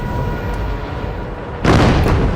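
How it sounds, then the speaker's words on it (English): Depth charges explode around a World War II German U-boat at sea, a loud rumbling blast followed by a sudden sharper, heavier boom, likely part of a dramatized recreation. "The explosions send U-405 into a tumble."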